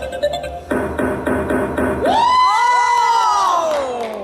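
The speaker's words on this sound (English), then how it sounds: "What are you cheering for?" A crowd at an anime convention Farkle dice game cheers and whoops loudly after a sudden death roll, a few rhythmic claps giving way to sustained rising shouts and yells from many people.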